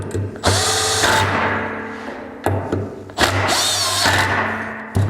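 An impact wrench tightens clutch bolts on a 2016 or newer Polaris RZR, giving loud close rattling bursts, each a second or two long, with brief pauses and thuds between them.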